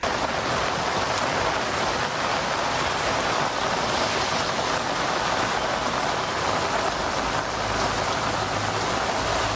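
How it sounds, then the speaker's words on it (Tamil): Heavy typhoon rain pours down in Taiwan during Typhoon Fung-wong, a dense, loud, continuous hiss of drops hitting surfaces, steady throughout with a low rumble near the end and no speech. "கனமழை கொட்டி தீர்த்ததால் சாலைகளிலும் சுரங்க பாதையிலும் வெள்ளம் சூழ்ந்தது"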